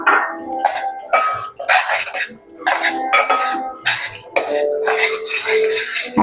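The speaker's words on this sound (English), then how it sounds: "Stir it nicely." Peanut powder being stirred in a pan for sesame ladoos, with repeated scraping and clinking of a spoon against the pan, close and fairly loud, in uneven bursts throughout.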